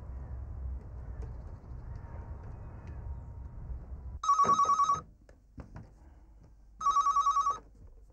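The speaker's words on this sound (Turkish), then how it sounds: "Ben bir telefon edebilir miyim?" A telephone rings twice in loud, even bursts with a gap between, over a quiet room after a stretch of low background rumble; a call is being placed.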